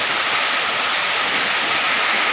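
Heavy rain pours down in a steady, dense roar of hissing noise that stays loud and unbroken throughout, with no voices.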